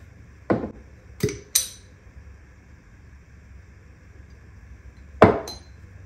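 A utensil clinks against a bowl while rice salad with red onion, salt, olive oil and vinegar is mixed, giving a few sharp, close knocks spaced apart with quiet gaps between them.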